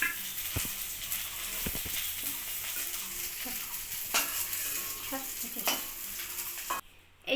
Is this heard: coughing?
no